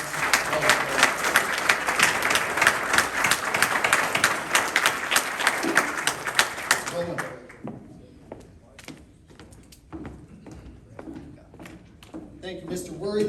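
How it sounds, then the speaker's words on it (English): A club meeting audience gives a round of applause for award recipients, dense, lively clapping for about seven seconds that fades to scattered claps and room noise, with voices speaking over the end. "let's give it one more round of applause for all of our recipients."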